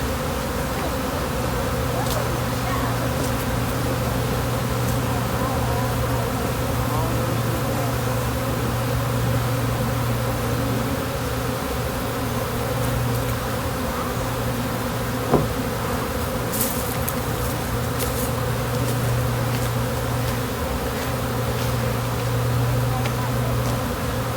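Honeybees buzz steadily during a hive removal, a dense, continuous hum close by and filling the whole stretch, while people talk quietly beneath it.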